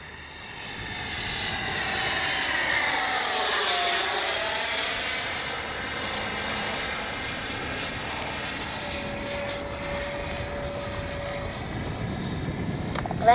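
An RC Arrows 64mm EDF MiG-29 model jet flies a steep landing approach with gear and flaps down, its turbine whine rising and sweeping past in a clear Doppler pass before fading.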